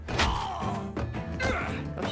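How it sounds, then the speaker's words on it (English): In the Dragon Age 2 video game, a character's face gets smashed: a sharp crash at the start, then a string of heavy thuds and whacks over a couple of seconds, fairly quiet overall. "Oh, she just smashed his face."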